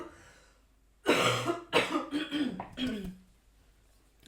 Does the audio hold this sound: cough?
yes